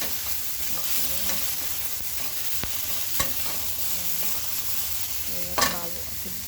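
Garlic and onion frying in a pan for beef broccoli, a continuous hissing sizzle with intermittent scraping strokes and knocks of a spatula stirring, close and fairly loud.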